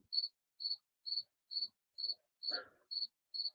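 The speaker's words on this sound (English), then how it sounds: "but you have a bunch of crickets" Crickets chirp outdoors in a carport at night, a steady train of short, evenly spaced bright pulses about every half second, moderately close and otherwise quiet apart from one faint brief rustle.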